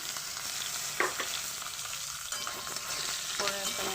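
A fish head fries in oil with panch phoron tempering, a dense continuous sizzle with crackles and bursts of stirring close up. The sound stays loud throughout with no voices.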